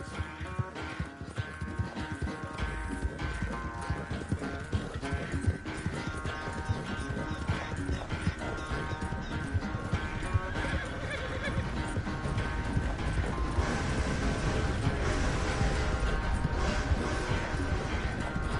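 Horse hooves clip-clopping at a quick, continuous pace over a dense, busy background, with a faint neigh.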